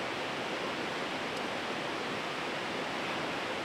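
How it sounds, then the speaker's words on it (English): A loud river rushes steadily beside a campsite on a rainy morning, its broad, even roar filling the scene without a break and with no voices over it. "The river is pretty loud here, but it's not too bad."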